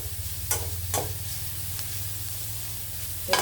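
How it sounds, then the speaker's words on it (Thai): Shallots and garlic fry in a pan with a constant close sizzle. A few scraping stirs break through, with no talk. "ขั่วหอมขั่วกระเทียม"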